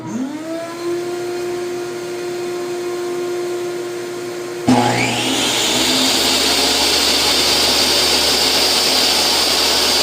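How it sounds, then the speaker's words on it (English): A shop vacuum in a home workshop whines with a steady tone, then a second motor kicks in halfway and the whole thing swells into a louder, rougher roar that keeps running close by with no talking. "Shop vac doesn't sound too good, does it?"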